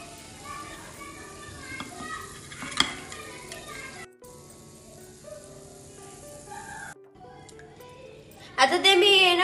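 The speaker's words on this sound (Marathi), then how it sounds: "आता याला चांगलं असं फ्राय करून घ्यायचं।" Khoya gulab jamun sizzle in hot oil with a steady frying hiss, broken by a few brief gaps, while someone talks over it and a louder burst of voices or sizzling comes at the end.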